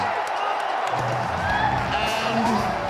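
Loud crowd roar and cheering at the NFL draft in Green Bay as a Texas wide receiver is picked, mixed with excited talk over the noise in a short burst.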